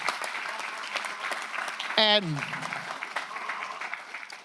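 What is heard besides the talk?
applause for first responders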